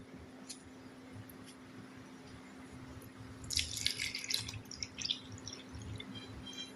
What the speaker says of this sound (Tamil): காய்கறி போட்டு தண்ணி கொஞ்சம் ஊற்றிக்கலாம்